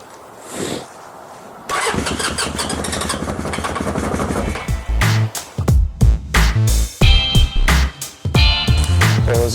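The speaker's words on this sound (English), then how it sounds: "Well, as you can tell, the bike does run." A 1981 Honda CB750K motorcycle cranks and fires, then runs loud and close with a rough idle and repeated sharp throttle blips that rise and fall in uneven bursts.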